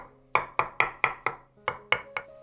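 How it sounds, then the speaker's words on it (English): A knife chops boiled egg whites on a cutting board, eight crisp, evenly spaced knocks in quick rhythm after a brief pause, close and clear with no talk. "Cut the egg whites into small pieces"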